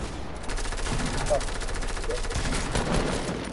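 Rapid gunfire in the Fortnite video game, a dense run of shots filling most of the clip with steady bursts, close and loud, with players talking over it.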